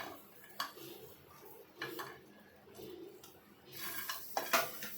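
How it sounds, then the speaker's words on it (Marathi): Ginger, garlic, sesame seeds and coriander dry roasting in a pan, heard as faint, scattered clinks and scrapes of a utensil against the pan, with a brief louder clatter near the end. "हे सगळं भाजून घेऊया"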